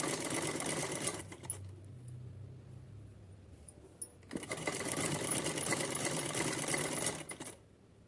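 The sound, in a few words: sewing machine stitching green strip on doll dress cap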